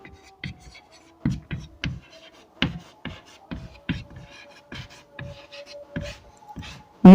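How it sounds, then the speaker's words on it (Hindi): Pen scratching notes onto paper during a Class 10 social science lesson: a series of short, dry scribbling strokes in irregular bursts with pauses between, close up, ending in a sudden loud knock. "चलिए हम सेकेंड नंबर पॉइंट लिखते हैं।"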